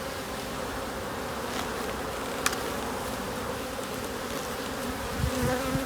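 Honeybees buzz around an open hive during a winter inspection, a steady close drone of many wings with a few sharper buzzes passing near, and no talk.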